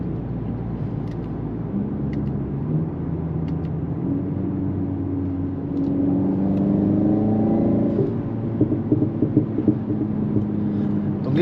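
Engine note of a 306 hp BMW M135i piped through the cabin speakers, a low droning hum that swells into a rising rev partway through, heard from inside the car without speech.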